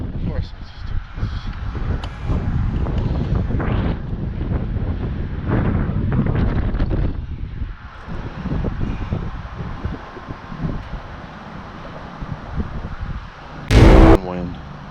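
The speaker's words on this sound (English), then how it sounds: "Wind." Wind gusting against a microphone outdoors at a dug-out well site, rumbling low buffeting that rises and falls, with someone talking through part of it and a brief sharp noise near the end.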